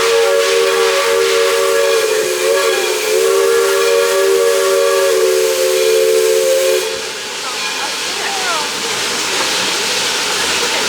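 A steam train on a California redwood forest line venting steam, a loud continuous roaring hiss with a steady whistle tone for the first seven seconds, then hiss alone, close by.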